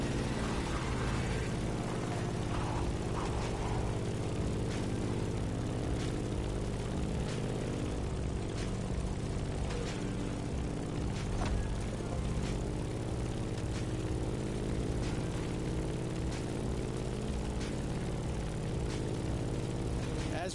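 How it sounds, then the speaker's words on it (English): A Grumman F8F Bearcat propeller fighter in the video game The Crew Motorfest drones with a loud, continuous engine roar and buzzing propeller throughout, steady and close. "In the cockpit of a stunning Grumman F8F Bearcat, or simply the Bear."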